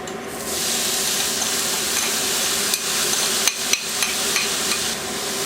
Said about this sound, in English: Just want to saute the onions for about 7 minutes until you get see nice and softened